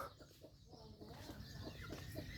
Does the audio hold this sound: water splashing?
no